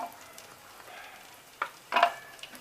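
Black raisins fry in hot ghee for a pumpkin payasam. A faint, quiet sizzle swells into two short, louder hissing bursts near the end, with no speech.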